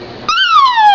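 A young girl imitates a horse's whinny with her voice, a single high, wavering squeal that starts abruptly and slides downward in pitch over about a second, loud and close.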